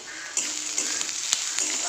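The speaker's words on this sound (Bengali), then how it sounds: "আর এটা আলু ভাজি করব" Potatoes fry in a pan of oil with a steady, close sizzling hiss and a few soft stirring ticks.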